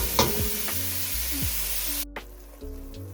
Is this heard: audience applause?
no